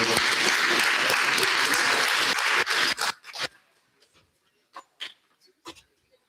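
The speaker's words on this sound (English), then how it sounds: "Give her a round of applause." A conference crowd at a Denesuline language revitalization gathering claps to welcome a speaker to the stage, a full burst of applause for about three seconds that breaks off abruptly into a few scattered, isolated claps and small sounds.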